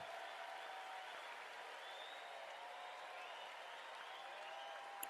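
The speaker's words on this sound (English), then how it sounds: "the crowd gives a big round of applause" Crowd applause at a women's T20 World Cup cricket match between West Indies and England, a steady, faint, distant wash of clapping that continues evenly throughout.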